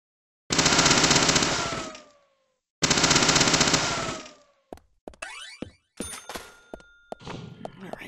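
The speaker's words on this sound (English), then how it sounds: "Though it seems faster just to shoot them." Video game gunfire in Deadly Premonition as enemies are shot: two long loud bursts of rapid automatic fire, then a scatter of sharper single shots and impact clangs.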